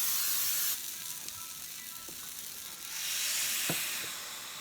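Steady sizzling hiss from waffle batter cooking in a hot waffle iron, with a spray-like burst at the start and a louder swell partway through; no talking.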